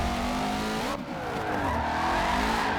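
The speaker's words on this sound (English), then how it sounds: "So that whole section I did in third gear, all because it's a Voodoo engine. It loves the high RPM band" A 2016 Ford Shelby GT350R with its Voodoo engine revs hard in Forza Motorsport 7, the tone climbing and dropping through high RPM with a brief dip near one second, loud and close with faint tire noise.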